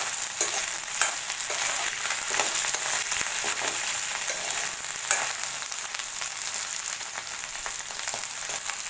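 Okra sautéing in sesame oil, giving a continuous, even sizzle with light stirring scrapes now and then, close up and with no talking.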